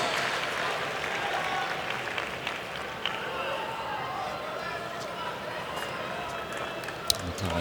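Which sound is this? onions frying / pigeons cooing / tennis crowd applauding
tennis crowd applauding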